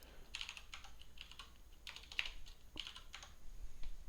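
Fingers tap on a computer keyboard in soft, close, irregular bursts of key clicks with brief gaps, quiet and with no talk.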